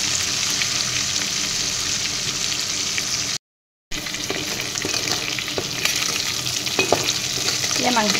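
Chicken pieces fry in a pan with turmeric, a steady close sizzle with scraping stirs from a spoon, broken by a brief silent gap before the frying resumes.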